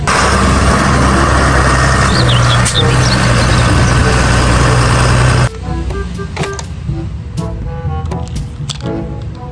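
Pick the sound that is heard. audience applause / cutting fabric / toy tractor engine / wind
toy tractor engine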